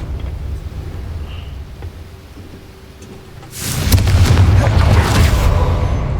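A Confringo fire spell bursts in Hogwarts Legacy after a quiet stretch, a sudden loud rumbling explosion that swells and roars on for a couple of seconds.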